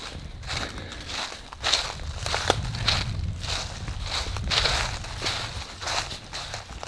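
Steady footsteps crunching and rustling over leaves and twigs on a forest trail beside a river in Red River Gorge, close by, with a few sharper snaps along the way.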